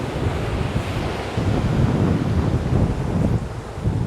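Ocean waves at a hidden beach in Goa, a continuous roar of surf with heavy wind buffeting the microphone, loud and close, no voices.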